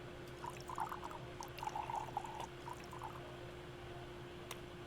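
Drink being poured in the video game Chef RPG: a thin, bubbly liquid trickle in short bursts over a few seconds, faint against a steady background hum.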